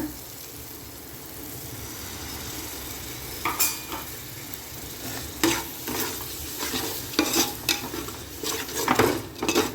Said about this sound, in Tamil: தயிர் ஊற்றி நல்லா கிளறுங்க.